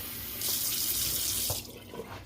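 Water gushes from a tap in a steady stream for a second or so, then cuts off, followed by faint kitchen sounds.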